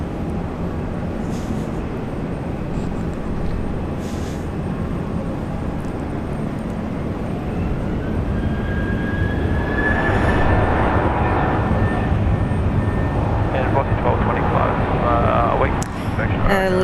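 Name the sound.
airliner taking off at Brisbane Airport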